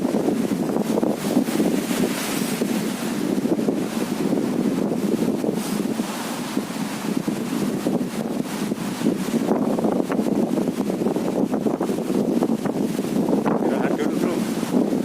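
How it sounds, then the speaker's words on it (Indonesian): Strong wind gusts at sea during a fishing trip, a constant loud roar of wind buffeting the microphone with surf and water washing underneath, brief speech mixed in. "anginnya sangat kencang."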